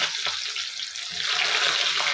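Onions hit hot oil in a wok and sizzle loudly, a dense, steady hiss filling the space close up for the whole moment.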